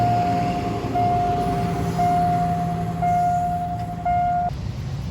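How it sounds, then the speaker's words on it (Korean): A small train from Bangkok rolls past in Udon Thani, Thailand, with a steady low rumble, and a thin sustained high tone rings out over the clatter throughout. "마침 지금 기차가 지나가네."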